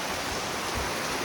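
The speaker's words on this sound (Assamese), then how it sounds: "সিফালে চাওক না কিমান বৰষুণ আছে" Heavy rain pours steadily outdoors, a dense, even hiss of broadband noise with no breaks, fairly close and continuous, with no voices.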